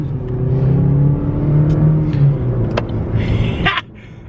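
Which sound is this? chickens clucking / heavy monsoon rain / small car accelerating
small car accelerating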